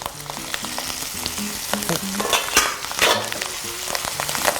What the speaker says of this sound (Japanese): でまた今度炒めていきますよ